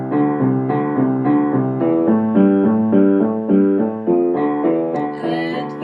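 A piano plays Hanon exercise number 30, a finger-strength drill, as an even run of repeating note patterns that rise and fall steadily, close and clear, with no voices.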